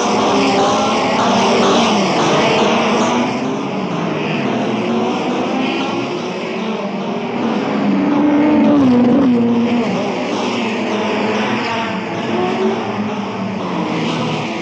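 Racing cars roar away at the start of the 1962 Monaco Grand Prix, a loud, dense wall of engine noise sustained throughout, with rising and falling revving tones from the field of cars.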